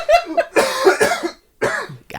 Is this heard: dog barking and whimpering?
no